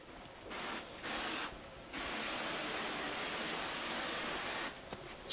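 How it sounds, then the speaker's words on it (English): Encapsulating rinse is sprayed onto carpet in hissing bursts, a short burst first, then another, then a long continuous spray close by, with no talking. "First, we spray the encapsulating rinse on the carpet."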